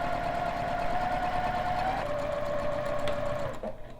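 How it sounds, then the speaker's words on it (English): A sewing machine stitches fabric continuously with a steady mechanical whir and hum, briefly shifting pitch before winding down at the end. "Take it to the sewing machine, and I'm going to just stitch down one of the sides at 1/4 of an inch."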